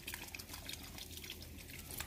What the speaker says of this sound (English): you go ahead and add your soy sauce